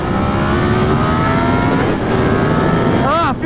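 A Yamaha FZ-10 motorcycle accelerating hard on the road, its engine roaring loudly and steadily as pitch climbs, then a quick rising shift sweep at the end, heard from the rider's position with wind rush.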